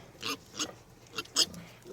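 Several short snuffling grunts from pigs, spaced irregularly over a couple of seconds, nearby against faint ambient noise.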